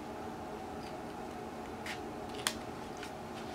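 Scissors trim washi tape while decorating a gray and pink weekly planner spread, giving a couple of faint, crisp snips close by over a quiet room hiss.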